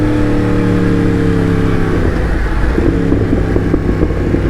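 2016 Yamaha MT-10 motorcycle with an R1 engine revving loudly up close, a steady engine note that shifts pitch midway and rises again near the end.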